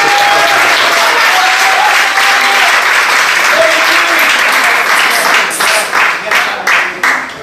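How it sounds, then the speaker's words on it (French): A crowd at a street dance battle selection in Port-Gentil applauds the qualifying dance groups, loud dense clapping mixed with cheering that swells and then breaks into choppier bursts toward the end. "Donc on applaudit encore pour eux."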